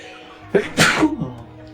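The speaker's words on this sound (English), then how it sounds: "I'm gonna sneeze." One loud, close human sneeze with a quick inhaled build-up and a sharp burst, then fading breath.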